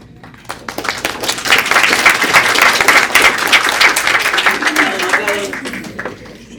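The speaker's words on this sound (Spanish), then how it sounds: "Aplausos, señores." An audience at a real estate law congress claps in sustained applause that swells after a quiet start and holds steady, dense and close, then tapers slightly near the end.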